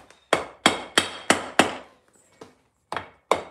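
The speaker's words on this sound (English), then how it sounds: "A trusty rubber hammer." A rubber hammer thumps the cylinder barrels of a Triumph Bobber engine with five firm, evenly spaced blows, then a short pause and three more strikes, close and clear.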